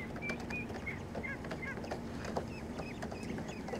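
Pekin cross ducks honking in a farmyard, a string of short nasal honks and quacks at moderate distance over a low steady background hum.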